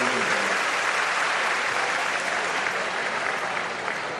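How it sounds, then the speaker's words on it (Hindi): Loud, dense applause from a large audience welcoming the chief minister at a state-level school enrolment campaign event in Bhopal, steady and sustained throughout with no pause. "आदरणीय मुख्यमंत्री जी का हम एक बार जोरदार तालियां बजाकर उनका स्वागत करेंगे"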